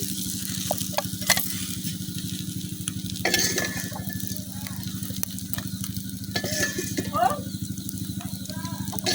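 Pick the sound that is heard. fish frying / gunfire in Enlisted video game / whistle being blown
fish frying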